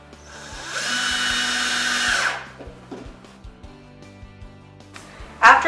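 A power drill runs in one loud sustained whine for about two seconds while fastening hinges to a DIY wooden headboard, followed by quieter knocks and handling noises and a short sharp burst at the end.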